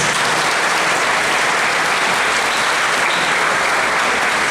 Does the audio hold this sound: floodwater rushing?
no